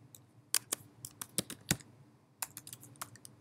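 Keys clatter on a Mac computer keyboard as a command is typed into a terminal, a quiet, close, irregular run of clicks with short pauses between bursts.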